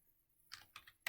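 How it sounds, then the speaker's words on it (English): Quiet keystrokes on a computer keyboard while month names are entered in a spreadsheet: three or four light, close clicks in quick succession after a brief near-silent pause. "just typing in month, and we'll just say January, February,"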